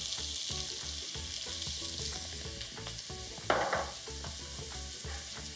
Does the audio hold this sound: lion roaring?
no